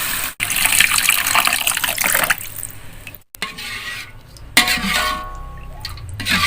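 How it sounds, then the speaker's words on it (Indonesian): Water pouring into a cooking pot while making Betawi bandeng pucung, a loud rushing splash broken by brief pauses, then a steadier gurgling stream as the pot fills, close up and with no talk. "Kita masukkan air ya guys, udah harum."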